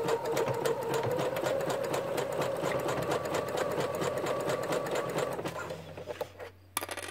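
A sewing machine stitches bias binding onto a bra, running with a steady, fast, mechanical whirring rattle. It slows and stops near the end, followed by a brief handling noise.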